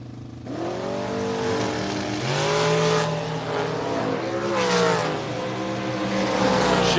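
A Fox Body Mustang roars down a drag strip at full throttle, its engine note climbing through gear changes as it passes loud and close, with faint crowd ambience.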